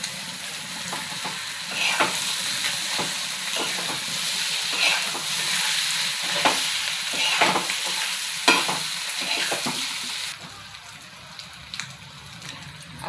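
Chopped vegetables sauté in a pan with a steady close sizzle, and repeated scraping stirs punctuate it for about ten seconds before the sound drops quieter.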